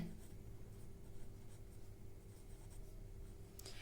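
A pen moves across paper while partnership accounting figures are written out by hand, giving a faint, continuous scratching under a steady low background hum, with no talking.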